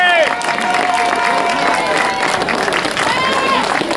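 A crowd at a race prize-giving cheers and applauds the race director and his committee, loud and continuous, with shouting voices and babble riding over the clapping.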